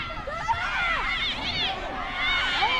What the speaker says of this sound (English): Crowd coming alive here at Regal